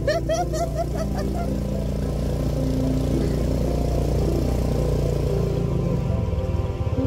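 A car crawling slowly through a river crossing, its engine idling low and steady close by, with clatter and splashing early on and rougher pulsing toward the end.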